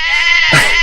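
A sheep gives one loud, close, wavering bleat, heard alone with no talking over it.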